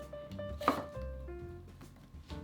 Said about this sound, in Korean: 먼저 야채는 대파, 양파, 청양고추를 썰어서 준비합니다